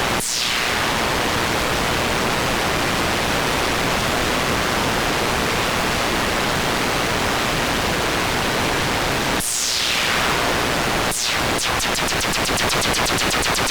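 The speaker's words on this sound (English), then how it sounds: "we'll get into that when we go over just some sounds from the RF Nomad" Harsh broadband static and hiss from an Evaton Technologies RF Nomad synthesizer fills the whole stretch, loud and steady, with a sudden sweep near the end followed by rapid stuttering pulses.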